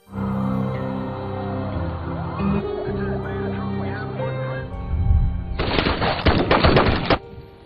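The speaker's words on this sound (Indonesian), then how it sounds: "para polisi pun langsung menghujani peluru ke tubuh Dean" Film police open fire on a man, a dense, loud burst of rapid gunfire from about 5.5 to 7 seconds, following a stretch of dramatic music and effects.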